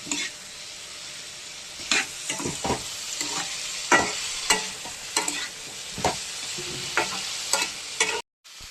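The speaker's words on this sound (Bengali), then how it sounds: "দেখুন এবার নেড়ে দেবো হালকা, টমেটমটা এর মধ্যেই ভাজা ভাজা হতে থাক।" Tomatoes fry in hot oil seasoned with nigella seeds, sizzling steadily while a spoon scrapes and taps the pan in irregular strokes, with a brief dropout near the end.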